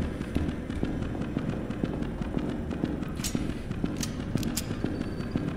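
Rapid, crackling gunshots in the Carnival Massacre horror video game, a steady stream of sharp pops under a busy game soundscape, moderately loud with no speech.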